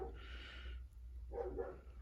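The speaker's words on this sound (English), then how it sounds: "Sorry, my dog's going nuts in the background." A dog barks and yaps in the background in short bursts, faint and distant indoors, with a steady low hum underneath and no one speaking.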